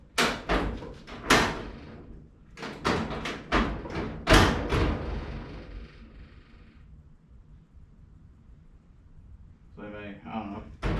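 A car's passenger door, with hinges being reshimmed and hitting slightly high, is shut hard several times, each closing a loud close thud, followed by quieter handling noises.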